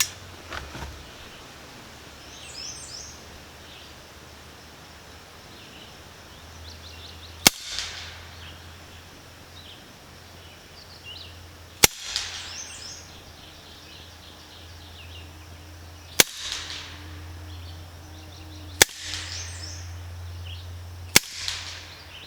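Sharp, isolated shots from a Sidewinder compact .25-calibre air pistol crack out one at a time every few seconds against a quiet outdoor background with faint birdsong.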